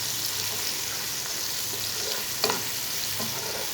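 Onions fry in hot oil for a pulao, giving a steady close sizzle with a light clink of stirring partway through.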